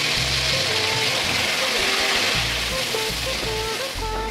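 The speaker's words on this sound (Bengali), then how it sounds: "গ্যাসটা মিডিয়ামে রেখে ভালো করে মশলাটা আমি কষিয়ে নেবো" Masala spice paste fries in a pan over medium gas for a Bengali fish curry, giving a steady, broad hiss of sizzling throughout, with background music playing over it.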